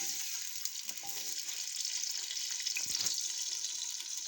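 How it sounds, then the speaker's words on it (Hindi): Chopped onion fries in ghee with a steady, soft sizzling hiss and a few faint stirring clatters, close but quiet. "अब हम इसमें ये घी लिया है, हम इसमें ये प्याज डालेंगे"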